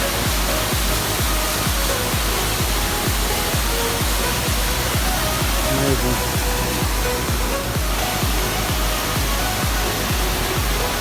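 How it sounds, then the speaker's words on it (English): Cascada Trufulco, a large waterfall in Huerquehue National Park, Chile, roars as a loud, steady broadband rush, heard close and constant from start to finish. "we already arrived at the second waterfall, Cascada Trufulco, and it's pretty big"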